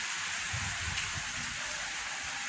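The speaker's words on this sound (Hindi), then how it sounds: "बारिश हो रहा है, अभी शुरू हो गया है।" Steady rain falls outdoors in Odisha, a soft continuous hiss with no voices, over a few low rumbling thumps.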